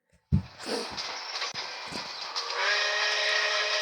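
A steam train whistle in the game Genshin Impact starts abruptly after a brief pause and swells into a long, loud, hissing blast that holds steady to the end.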